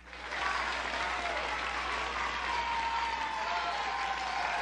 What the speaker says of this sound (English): I love the fake audience clapping.